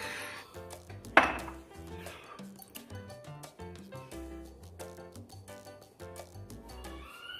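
A ceramic tea cup is lifted down from a kitchen crockery shelf and handled, giving one sharp clink near the start, then soft taps and knocks while music plays throughout.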